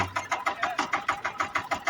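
A tractor engine labouring at a village pond worksite where the tractor is stuck, its close, steady chugging beating in quick regular pulses for the whole stretch.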